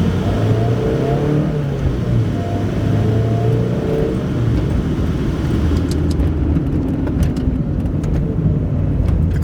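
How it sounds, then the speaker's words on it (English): A 1991 Mazda Miata with the air conditioning on accelerates, its engine droning loud and near with a drawn-out rising pitch, and a few light clicks near the end. "you can definitely feel it when I crank the AC and step on it."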